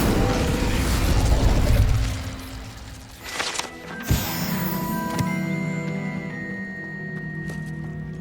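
The Incendio fire spell is cast in Hogwarts Legacy with a whooshing burst and pop, followed by mechanical clicks and a lingering tonal shimmer, after a rumbling passage.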